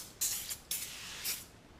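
Short hissing bursts from a spray can aimed at a welded metal part, three or four quick close sprays separated by brief pauses, no talking.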